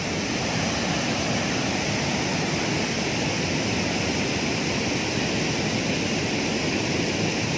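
Curug Parigi waterfall near Bantar Gebang, Bekasi, running heavy with a steady, dense roar of falling water, loud and close and unbroken throughout, with no voices.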